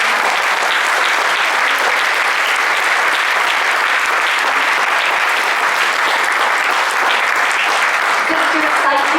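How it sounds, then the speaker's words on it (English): Loud, sustained applause from a large audience at a lecture, dense steady clapping that holds at full strength throughout without fading. "we need to give a big round of applause"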